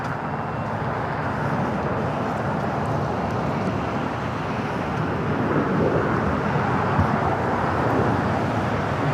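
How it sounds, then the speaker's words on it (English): Japan Airlines Dreamliner pushing back from the Tom Bradley terminal at LAX, a loud, steady broadband roar of engines and airport noise filling the whole stretch without clear change. "Japan Airlines Dreamliner now pushing back from Tom Bradley."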